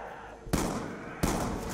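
Two loud, sudden blasts of a nuclear strike in Call of Duty Black Ops 2, each a broad booming burst with a sustained rumbling tail, about 0.7 seconds apart.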